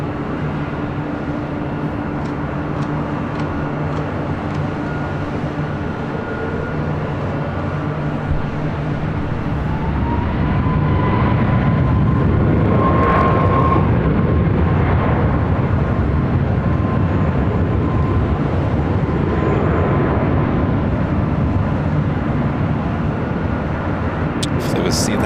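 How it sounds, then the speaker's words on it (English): A Southwest airliner rolls for takeoff on runway 24 left at LAX, a steady broadband jet roar that swells midway and holds loud, with a rising whine, under radio chatter throughout. "South 941, runway 24 left, clear for takeoff, RNAV Delray."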